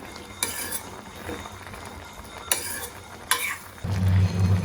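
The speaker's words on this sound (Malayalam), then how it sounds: "ഇനി ഇത് നന്നായിട്ട് ഒന്നുകൂടെ ഒന്ന് ഇളക്കിയെടുക്കാം." Avial, a vegetable curry with jackfruit seeds, drumsticks and dried prawns, stirred in a pot: several sharp metal spoon clinks against the vessel, then a low bubbling rumble near the end.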